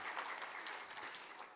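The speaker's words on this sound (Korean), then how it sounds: "우리 시온 찬양대 한번 격려의 박수 해주시면 좋겠습니다" A church congregation claps in encouragement for its Zion choir, dense applause from a crowd of hands holding steady and close for the whole short stretch, with no voices.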